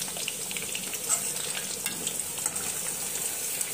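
Cut potatoes for homemade fries bubble and hiss in hot frying oil at close range, with a soft steady sizzle broken by a few light stirring taps.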